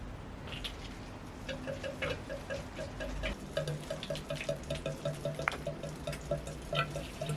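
Water drips and trickles from a homemade DIY garden watering system, soft close ticking drops falling in a steady irregular rhythm with faint running water beneath.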